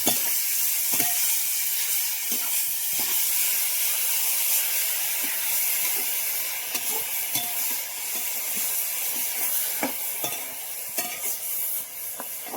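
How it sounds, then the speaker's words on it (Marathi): Wild forest mushrooms in masala stirred in a pan over a village cooking fire, a continuous hissing sizzle broken by irregular scraping and knocking strokes of the spoon. "आता आपण हलवून घेऊया पूर्ण"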